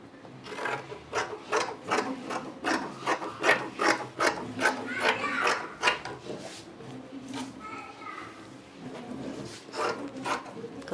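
Scissors snipping through fabric while cutting out pieces for a wrap peplum top: a rapid, rhythmic run of crisp rasping cuts, close and fairly loud, pausing briefly near the end before resuming.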